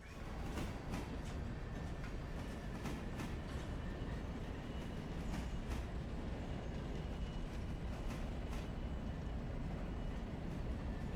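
A long freight train of railroad cars being assembled rolls past at a steady pace, a continuous low rumble with faint periodic wheel clicks, heard from some distance and without talk.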